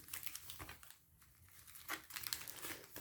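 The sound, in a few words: Duel Masters booster pack wrappers crinkling while being shuffled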